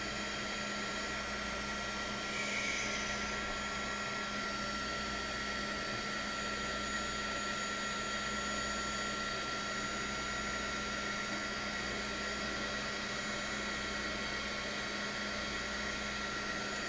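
Heat gun blowing hot air to shrink yellow heat shrink tubing onto a 250 quadcopter arm, a steady faint fan whine with a constant hum that runs on unchanged throughout.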